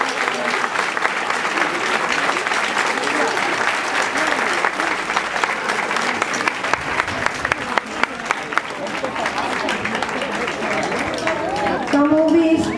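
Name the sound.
crowd applause welcoming the caparrots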